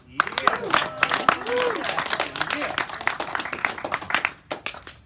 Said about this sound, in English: So, round of applause to Avery Heaney.